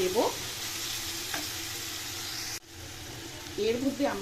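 Mutton stirred and fried in a pan, with a continuous hissing sizzle broken by a few spatula scrapes and a sudden drop in level partway through.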